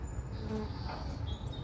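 Bees buzz in a steady, close swarm nesting under a house eave, a continuous drone with faint higher whines drifting over it.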